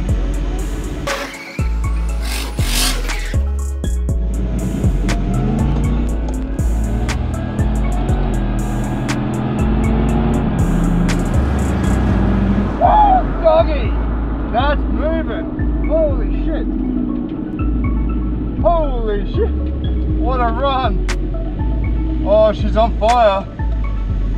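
A powerful turbocharged engine of a Ford XR6 Turbo Ute roars and revs up and down while racing, loud and close, with sharp rising whines and a few talking voices underneath.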